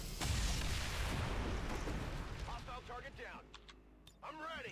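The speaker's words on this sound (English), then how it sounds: "kill him with a pistol and reload" A single pistol shot in XCOM 2 lands as a loud, booming blast at the start and rumbles away. Talk follows as the echo fades.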